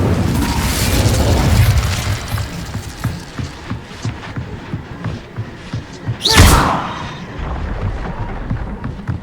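The Incendio fire spell cast in the Hogwarts Legacy video game, loud booming whooshes and thuds with a sharp burst partway through among rumbling game effects.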